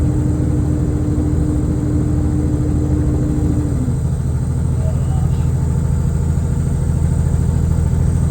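Truck diesel engine pulling uphill at about 1600 revs and around 50 km/h in the Adelaide Hills, a steady loud droning rumble heard from inside the cab throughout.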